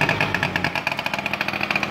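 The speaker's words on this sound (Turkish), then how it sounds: "Bir rölanti ayarı yapalım şimdi buna" A Honda Shadow 90cc motorcycle engine idles close by, a steady pulsing putter with a slight rhythmic unevenness, running alone without voices.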